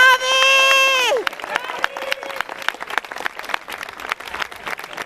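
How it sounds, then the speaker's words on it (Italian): A loud voice calls out to the crowd at a dance exhibition before lively applause takes over, full of crisp individual claps and a hum of crowd noise beneath. "Un applauso ancora, forza!"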